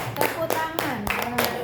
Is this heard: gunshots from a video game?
no